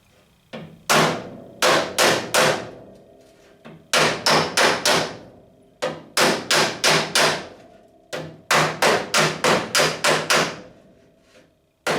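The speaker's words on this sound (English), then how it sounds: "I'm going to take my body hammer and I'm going to work the dent towards the center" A body hammer strikes against a dolly while working out a dent in the panel of a Mustang Fastback, with rapid clusters of three to five ringing metallic blows repeated in bursts, loud and close.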